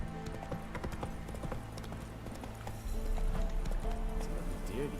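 Roach, a horse in The Witcher 3, gallops with a steady run of hoof clip-clops throughout, ending in a brief snort or whinny.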